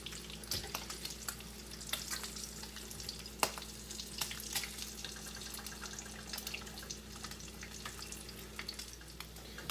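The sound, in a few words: food frying in a skillet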